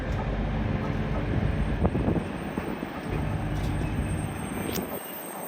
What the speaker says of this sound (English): we've got a Eurostar 373 departing now